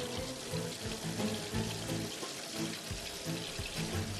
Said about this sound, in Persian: آب داره همینطوری هدر میره